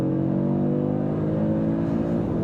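Audi RS3 five-cylinder engine pulling hard at full throttle in a 2024 model, a loud continuous rising engine note held close and steady throughout with no talk.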